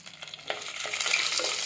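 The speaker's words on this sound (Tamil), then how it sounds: "கருவேப்பிலை நல்லா பொரிஞ்சு வரட்டும்" A steady hiss of curry leaves and whole dried red chillies frying in hot oil, close by, with a few soft stirring scrapes, growing slightly louder toward the end.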